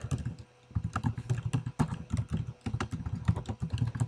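Rapid, uneven keystrokes clatter on a computer keyboard at close range, a steady burst of typing with a short pause near the start and no voices.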